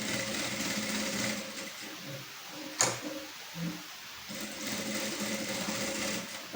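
A sewing machine stitches the border of a blouse, running in a fast, steady whir at close range, pausing briefly in the middle with a click before resuming its even hum.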